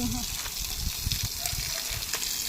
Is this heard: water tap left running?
yes